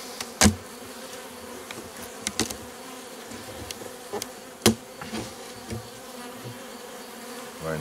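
Honeybees buzz steadily around Layens hives at a woodland apiary, a soft continuous hum with individual bees droning close past now and then, punctuated by a few faint knocks.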